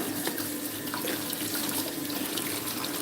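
A kitchen tap runs steadily into a sink during a quick wash-up after juicing: a continuous, close splashing stream with no talk.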